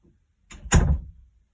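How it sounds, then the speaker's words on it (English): A single door swings shut with a soft thud and brief rattle, close by, followed by quiet. "I'm going to close my door"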